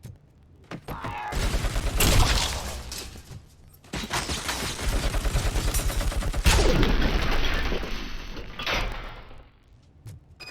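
Bursts of rapid gunfire from the video game Robocop Rogue City rattle loudly in several volleys, with sharp individual shots and mechanical clanks between them, ending in a quieter stretch with a few scattered pops.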